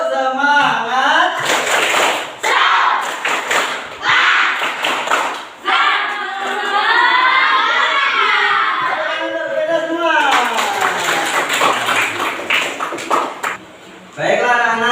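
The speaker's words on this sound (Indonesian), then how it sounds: "ice breaking kita sekarang adalah tepuk semangat" A classroom of children performing a rhythmic spirit clapping chant, bursts of sharp unison claps alternating with loud group chanting, close and energetic, with pauses between rounds.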